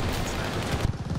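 Video game gunfire as a dense, continuous rattle of shots, loud and close, with a brief break in the barrage near the end.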